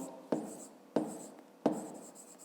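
A pen writes on paper during a fifth-grade math exercise. Three sharp taps come about every 0.7 seconds, each trailing into soft scratching strokes, close and fairly quiet, with no talking.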